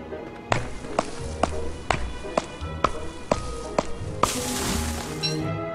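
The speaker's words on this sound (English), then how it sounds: "Chop in some more wood." Wood being chopped in the video game Don't Starve gives a run of sharp, evenly spaced thwacks, about eight in a row, over quiet game music, then a brief burst of rustling noise.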